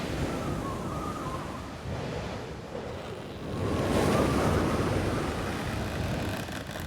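Gusting wind roaring over a rough sea, swelling louder midway and easing slightly, with a constant rushing hiss and no talking.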